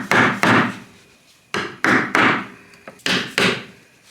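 An old screwdriver used as a punch is tapped with a hammer to mark drill holes while setting up a bench-mount bike repair stand, giving close, loud knocks in three quick pairs with short pauses between them.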